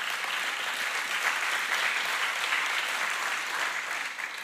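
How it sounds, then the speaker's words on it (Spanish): A church congregation applauds during a worship service, with dense, continuous clapping that stays loud and even throughout before easing slightly at the end. "Un aplauso al Rey."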